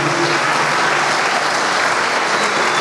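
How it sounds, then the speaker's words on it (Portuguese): A church congregation applauds in a dense, continuous roar of clapping that stays loud and even throughout, with no break. "Dê um aplauso a Ele, a Jesus de Nazaré"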